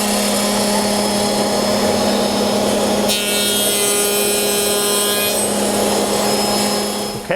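Finger joint router bit cutting wood held in a coping sled: a loud, steady router whine with a harsh grinding rasp that brightens midway as the cut progresses, then eases near the end.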